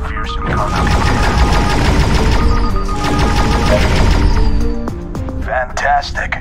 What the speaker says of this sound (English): Pull the primary fire trigger to fire the energy cannons